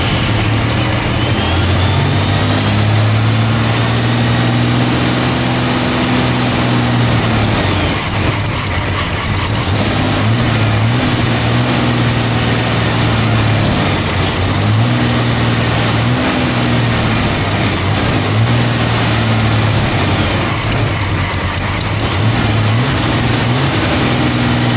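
A 1938 International truck engine idling steadily and fairly quietly, with a constant low drone and a few slight rises in pitch, close by and alone.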